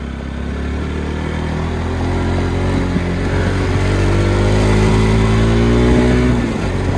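A motor scooter rides along a road, its mid-pitched engine droning loud and steady with rising revs and wind rush, easing off near the end; no talking.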